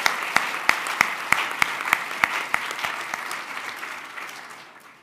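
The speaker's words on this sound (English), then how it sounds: "let's just give another round of applause for having such a great job." An audience gives a round of applause at the close of an event. A few sharp, evenly spaced claps stand out over a dense wash of clapping that gradually tapers off toward the end.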